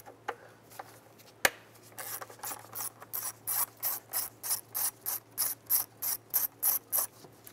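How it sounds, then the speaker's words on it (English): A 10mm socket ratchet clicks in a steady, rapid series of strokes as it backs out a bolt on the throttle body of a 2005-2010 Jeep Grand Cherokee, close and distinct with no talk. "we're going to go ahead and remove this bolt right here."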